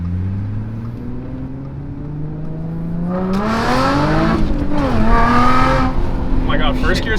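Dodge Hellcat accelerating hard in first gear, engine note climbing steadily and growing louder, with a rough blast of noise as it pulls; heard from inside, with voices over it.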